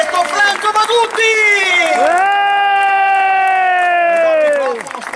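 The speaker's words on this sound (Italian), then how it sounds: "lui vuole sentire un forte applauso" A crowd cheers and applauds at an outdoor summer evening dance in Limena as the bandleader of the Franco Bagutti orchestra is introduced, while a man's loud, drawn-out shout rides over the steady roar of the audience.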